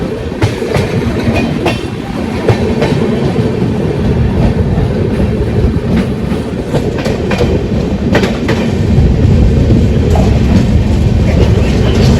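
Loud, close rumble of the Lalgarh-14703 Express rolling along the tracks between Mathura and Jaipur, heard from a sleeper coach, with rhythmic clacks of wheels over rail joints and no talking.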